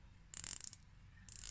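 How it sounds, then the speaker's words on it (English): Dense, rapid ratcheting clicks from a unidirectional dive watch bezel in 50 Fathoms style, a Typsim 200M prototype, sounding in two close, crisp bursts separated by a brief quieter pause. "Very solid feeling ratchet."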